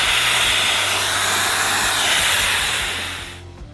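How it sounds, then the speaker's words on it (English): Compressed air at 85 to 120 psi powering the vacuum plate of an H&S Pull-Pro portable dent puller, a loud, close, steady hiss for about three seconds that then fades away. "Power the plate with compressed air between 85 to 120 psi"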